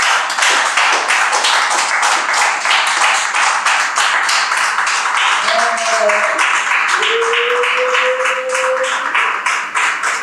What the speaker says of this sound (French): je veux que tu acclames le Seigneur